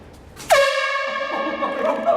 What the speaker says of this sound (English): Okay, first air horn test.